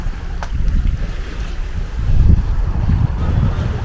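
Steady wind of about 12 knots rushes across a sailboat under way toward Elba in fine weather. It is a continuous low roar and microphone buffeting mixed with water wash, swelling louder in the second half, with no voices.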